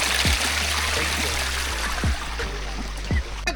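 A waterfall at Mukkonda Hills near Mydukur gives a steady, broad rush of falling water, with a few soft low thumps breaking through the continuous wash.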